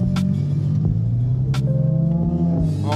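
A car engine hums and rumbles steadily while driving, a close, low droning with a few brief sharper knocks and clicks over it, no talk.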